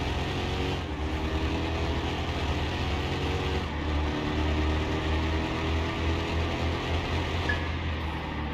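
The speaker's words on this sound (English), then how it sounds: "You hear those turbos kicking in on that Mazda." A Mazda RX-7 twin-turbo rotary engine accelerates in Car Mechanic Simulator 2021, a steady droning engine note climbing through gears with brief dips at shifts, continuous and moderately loud with no talk.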